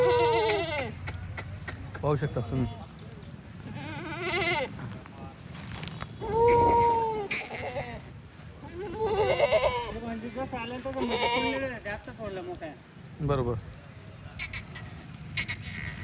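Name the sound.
goats bleating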